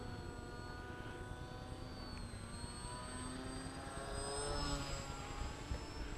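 A Hobby King Bixler 2 RC plane's electric propeller motor whines steadily at a distance, the buzzing tone rising slightly as it climbs, alone with no talk.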